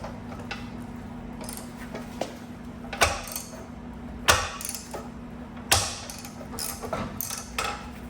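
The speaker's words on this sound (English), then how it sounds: "I'm just gonna raise it up with this Harbor Freight transmission jack" A Harbor Freight transmission jack lifting part of a straight-piped tractor gives off scattered mechanical clicks and ratcheting ticks, with a few sharper metallic knocks over a low steady hum, all up close.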